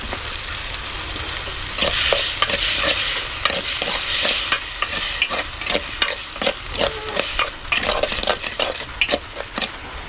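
Tomatoes and spring onion frying in a pot over a village cooking fire, loud continuous sizzling broken by rapid metallic scrapes and clinks of a utensil stirring against the pot, close up.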